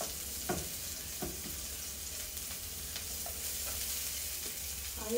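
Garlic and onion sauté in a pan with a steady, close sizzle and a few soft stirring scrapes at intervals, with no voices.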